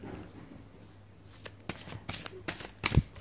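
Tarot cards being shuffled and drawn during a professional guidance reading, with soft riffling bursts building toward a sharper card snap near the end, close and fairly quiet.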